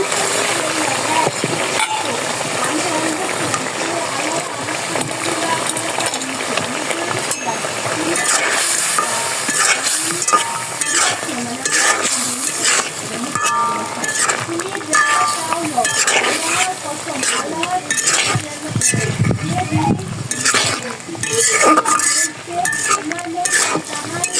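Fried fritters (bora) are stirred into a banana flower curry with tomatoes in a pan, giving close, busy scraping and clinking of a spoon against the pan over a continuous sizzle.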